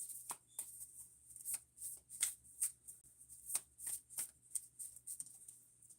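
Tarot cards shuffled and dealt by hand in a quiet room, a string of crisp riffling slaps and flicks in an uneven rhythm, close and fairly soft, with no talking.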